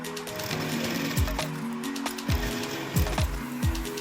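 A sewing machine runs straight stitching on a katori blouse, a steady mechanical whir broken by short repeated clunks at a regular pace, close and clear with no talk.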